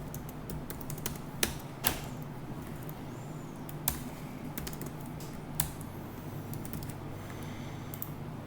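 Computer keyboard typing of demo payment data in a steady run of light key clicks, with a few sharper, louder strokes standing out against a constant background hum.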